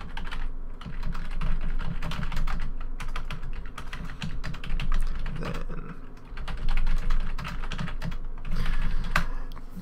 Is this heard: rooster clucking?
no